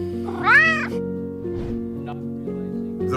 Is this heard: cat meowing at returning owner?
yes